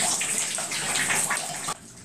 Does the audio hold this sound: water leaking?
yes